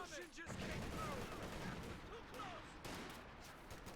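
A video game battle with a grenade and gunfire: continuous rumbling explosions and scattered shots under steady battle noise, fairly faint overall.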